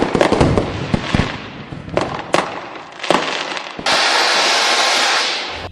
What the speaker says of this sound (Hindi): जल्दी से पटाखे जलाओ